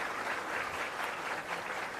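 Steady applause from an audience greeting a guest at a live government event, a dense continuous patter of clapping with no voices over it.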